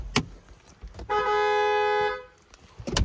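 A single loud horn honk from a 2022 Ford Bronco Sport held for about a second, sounding once with some faint background noise before and after.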